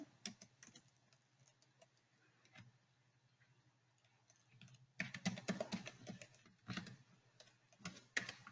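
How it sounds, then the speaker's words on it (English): Fingers type on a computer keyboard during an HR onboarding demo, with quiet, scattered key clicks for several seconds and then denser, louder bursts of rapid typing near the end. "I'm going to just type in some generic details here"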